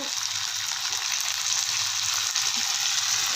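Onions and chilies sizzle steadily in a hot pan as tomato goes in, a continuous close frying hiss with no talking.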